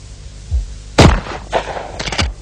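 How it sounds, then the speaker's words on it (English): Several shots from a Benelli shotgun fired in quick succession, sharp booming reports with short echoes, loud and close. "You can shoot the gun behind your back."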